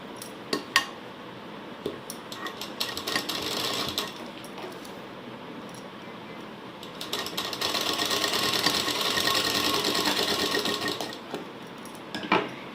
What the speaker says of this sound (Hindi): और उसके बाद इसमें स्टिच लगा देंगे।